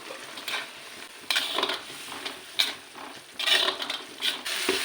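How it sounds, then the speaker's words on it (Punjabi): Spices for a vegetable dish tempering sizzle and crackle in hot oil, with soft stirring scrapes and occasional louder pops, fairly close and steady throughout. "ਤੜਕਾ ਜਿਹੜਾ ਆ ਚੰਗੀ ਤਰ੍ਹਾਂ ਭੁੱਜ ਗਿਆ ਆ"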